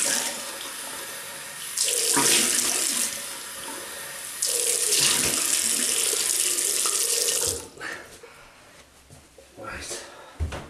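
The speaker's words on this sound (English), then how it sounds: "And then we'll rinse that off." A bathroom tap runs in loud bursts as a face is rinsed after a shave with a double-edged razor and shaving soap, the water splashing steadily for several seconds, then stopping, leaving faint drips and handling noises.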